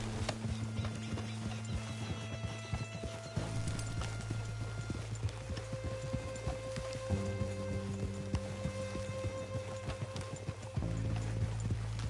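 Horse hooves clip-clop steadily as a rider travels on horseback in the Western game Red Dead Redemption 2, a continuous close rhythm over low ambient music, with a brief whinny.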